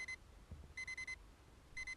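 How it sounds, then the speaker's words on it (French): A faint alarm clock rings in repeated short bursts of bright electronic beeps, three quick clusters spaced across the moment under low room hum, heard at home during a French gaming session. "Mon réveil sonne."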